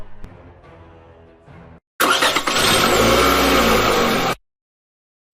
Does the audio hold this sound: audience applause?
no